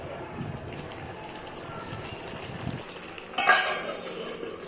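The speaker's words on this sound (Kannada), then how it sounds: "ಸ್ವಲ್ಪ ಬಿಸಿ ಆದ ನಂತರ ನಾನು 1 ಹಿಡಿ ಹುಣಸೆ ಹಣ್ಣನ್ನು ಟೊಮೊಟೊಗೆ ಹಾಕಿ ಹುರ್ಕೊತಾ ಇದ್ದೀನಿ" Tomatoes and tamarind stir in a hot pan for a simple tomato chutney, a steady soft scraping and sizzle with a brief clatter of the spoon against the pan near the end.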